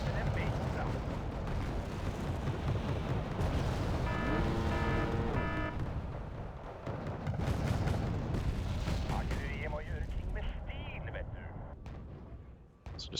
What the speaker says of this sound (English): So just gonna mortar in there a good amount.